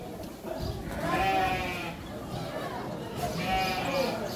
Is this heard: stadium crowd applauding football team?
no